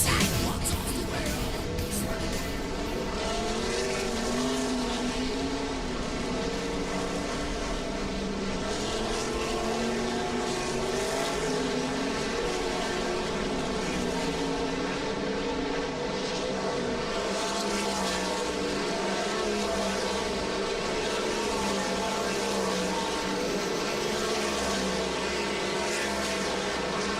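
World of Outlaws sprint cars turning hot laps at BAPS Motor Speedway, several engines blending into a continuous loud, droning roar with shifting pitch as they circle the track.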